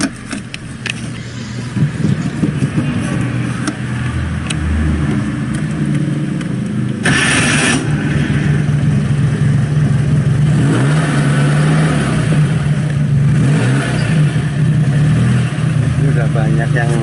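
An old Citroen car engine turns over and settles into a running idle, then revs up and down in waves, close and loud, while someone talks over it throughout.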